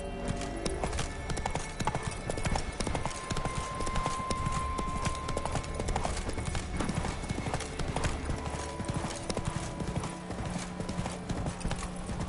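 Hoofbeats of the horse Roach galloping in The Witcher 3 video game, a steady rapid clip-clop running the whole time, with occasional whinnying and faint game sounds beneath.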